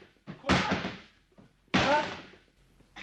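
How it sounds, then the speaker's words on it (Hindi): A door is struck with a hammer in two heavy, booming blows about a second apart, close and loud, each followed by a short rattling decay. "हथौड़ी, मैं अभी दरवाजा तोड़ता हूँ।"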